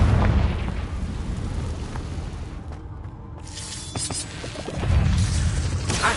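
Fiery Confringo spell blast in the Hogwarts Legacy video game, set in a cave: a sustained, heavy rumble of explosions with a brief lull midway, then a renewed loud burst of crashing booms.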